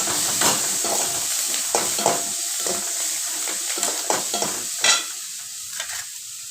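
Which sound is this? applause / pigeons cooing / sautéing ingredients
sautéing ingredients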